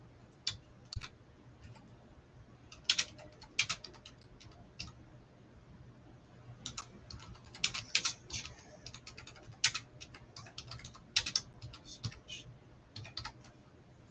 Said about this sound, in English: let me type that in here